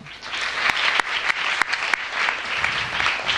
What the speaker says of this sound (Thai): ขอเสียงปรบมือให้โรงเรียนยานาเววิทยาคมครับ